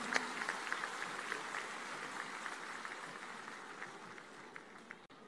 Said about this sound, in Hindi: तालियों द्वारा अभिनंदन